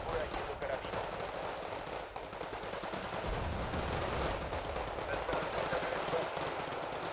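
Bursts of small-arms fire from a sniper squad in the real-time strategy game Wargame: Red Dragon, crackling repeatedly over a dense, continuous battle din with no clear pauses.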